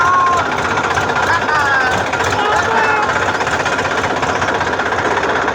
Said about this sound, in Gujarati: અમારે આર્યનભાઈ ટ્રેક્ટર હાકો મળ્યા જો.